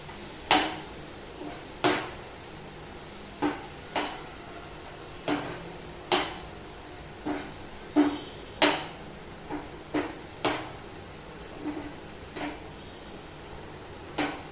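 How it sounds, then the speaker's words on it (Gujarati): A spoon scrapes and knocks against a pan while a masala pav mixture with butter and salt is stirred, producing a series of sharp, close metallic clinks at irregular intervals over quiet background. "એકવાર આપણે મિક્સ કરી દઈએ"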